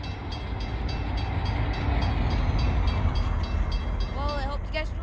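A BC Rail freight train in the Open Rails train simulator rumbles steadily with rhythmic wheel clatter, and a brief horn sounds near the end.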